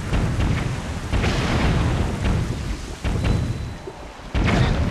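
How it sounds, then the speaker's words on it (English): Cannon fire in The Legend of Zelda: The Wind Waker, a series of heavy booms rolling one after another, loud and dense with rumbling, no talking over it. "Oh, cannon fire!"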